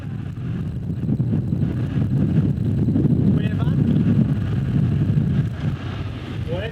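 Strong wind sweeps across a campsite sheltered by stones in Mongolia, a loud continuous roar and buffeting of the microphone that never lets up.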